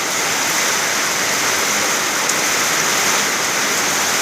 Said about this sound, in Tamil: கிறிஸ்து கோட்டையில் மழை பெய்துக்கிட்டு இருக்குது.